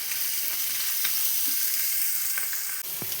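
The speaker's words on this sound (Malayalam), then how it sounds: "എന്നിട്ട് ഇതൊക്കെ ഒന്ന് പൊരിച്ചെടുക്കാം" Small mackerel fry in oil with a bright, steady sizzle up close, broken by occasional light clinks and stirring knocks, including a sharper tap near the end.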